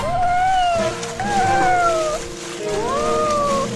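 Cartoon kitten stuck down a well meowing in long, drawn-out, wavering cries, several in a row with a slight hollow ring and a voice beneath.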